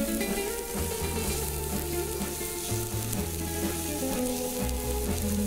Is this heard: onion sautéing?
yes